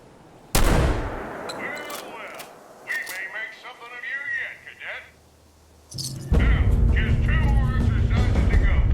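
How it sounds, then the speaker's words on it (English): A sniper shotgun fires once, loud and sharp, in Fallout 76, followed by a lingering tail, voices in the game and a sustained rumbling roar that sets in near the end. "it is my sniper shotgun."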